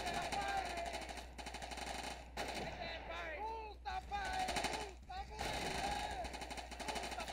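Sustained machine gun fire from Men of War: Assault Squad, set in a Winter War battle against Soviet troops, with bursts and rapid rattling shots running throughout alongside overlapping explosions and in-game voices.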